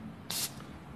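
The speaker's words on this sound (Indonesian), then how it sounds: "Ini menghasilkan semprotan yang besar." A single burst of white paint from a spray gun, a loud airy hiss lasting about a fifth of a second, then quiet room tone.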